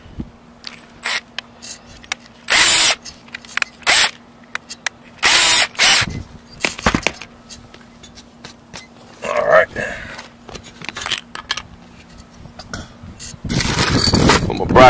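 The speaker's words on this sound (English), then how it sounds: "Now I put on my ratchet." A ratchet tool driving bolts for a solar panel roof mount, heard as several short bursts of mechanical clicking and whirring between quieter gaps, with louder handling noise near the end and no talk.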